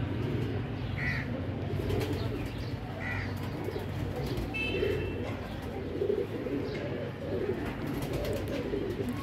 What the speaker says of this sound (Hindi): दुबई वाले प्रिंस कबूतर हैं